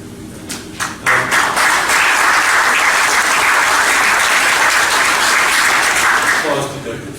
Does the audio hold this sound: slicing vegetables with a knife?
no